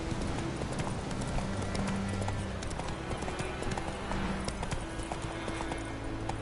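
The horse Roach gallops in The Witcher 3 with a steady, continuous clip-clop of hooves. The hoofbeats run under game ambience with a faint whinny.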